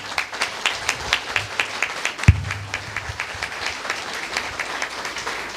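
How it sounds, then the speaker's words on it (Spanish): Applause from the audience at the closing ceremony of an International History Congress comes as moderate, scattered clapping, with one sharp thump partway through. "quiero un voto fuerte de aplauso por este Congreso Internacional de Historia"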